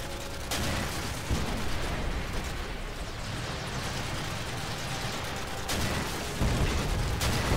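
Constant rapid gunfire in Call of Duty Online's Dead Ops Arcade mode, a dense, loud barrage of shots and blasts running nonstop, with heavier bursts at the start and near the end.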